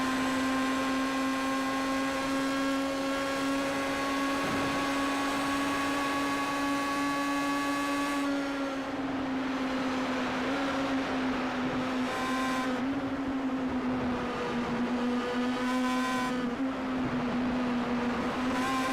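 A McLaren Mercedes number 7 race car in a racing video game, its engine whining loud and close with a steady high pitch, then throttle lifts and blips causing several quick dips and recoveries in revs.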